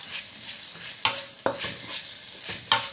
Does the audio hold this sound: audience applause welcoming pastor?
no